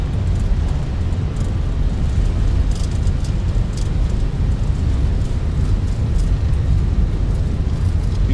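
Airbus A321 engines at takeoff power during the takeoff roll in Microsoft Flight Simulator 2024, a loud, steady low roar with constant rumble and no speech over it.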